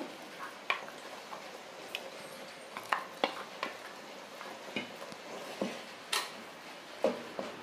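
Ground dal paste being stirred into sambar in a pan at home, with soft scraping and scattered clinks of a spoon against the vessel, irregular and fairly faint over a quiet background with no talking.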